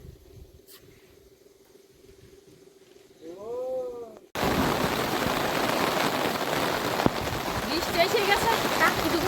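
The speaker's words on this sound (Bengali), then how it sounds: "বৃষ্টি দেয় একবারে এত জোরে আসলো" Heavy rain in a Sundarbans village arrives suddenly after a quiet stretch with a faint warbling call, becoming a loud, dense, steady roar of rain pouring down that continues to the end.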